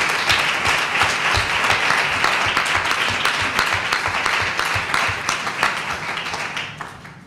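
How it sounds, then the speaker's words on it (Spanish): An audience at a regional conference session applauds. The steady, dense clapping continues for several seconds, then thins and fades toward the end. "a mí me gustaría que también se les diera un aplauso"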